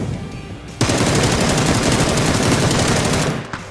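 Sustained automatic fire from a Beryl rifle in PUBG, a dense rapid burst that starts abruptly and rattles on loud and close for nearly three seconds before cutting off.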